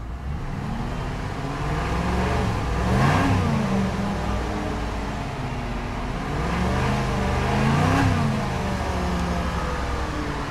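A 2003 Cadillac DeVille in park revs its engine twice, each rise climbing toward the rev limiter and falling back to a steady idle, loud and close with no talking.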